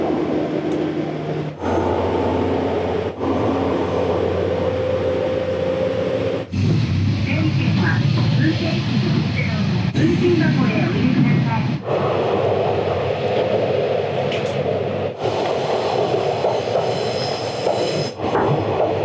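A Japanese local train departs Awa-Ikeda Station, rumbling steadily with a low engine drone, its tone shifting as it gathers speed, with faint voices in the background.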